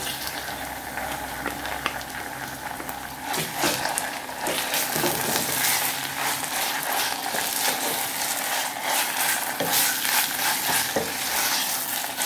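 Fresh mint leaves hit browned onions in a hot pan, setting off a steady sizzle and frying crackle with occasional stirring scrapes, close and continuous throughout without talking.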